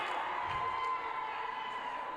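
A futsal crowd at an international friendly between Solomon Islands Kurukuru and Gold Coast Force responds to a double save, with faint distant cheering and whoops washing over a steady hall murmur.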